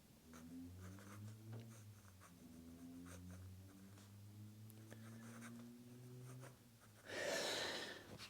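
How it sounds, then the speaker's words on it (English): A Platinum Plaisir fountain pen with a Platinum black ink cartridge writing smoothly on paper, a soft continuous scratch of strokes close up, with a louder brushing burst near the end. "it's very, very pleasant to write with. It's not feedbacky, it's just very, very smooth."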